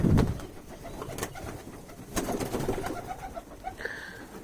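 Racing pigeons coo inside a loft, low throaty repeated coos near and moderately loud, with scattered rustles and a faint higher chirp near the end.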